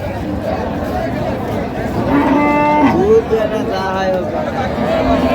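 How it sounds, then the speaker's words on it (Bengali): A cow lows at a busy cattle market where dairy cows are sold with their calves, two drawn-out moos rising above a constant hubbub of crowd chatter and nearby talk. "গাভী বাছুর আমরা দেখছিলাম এখানে"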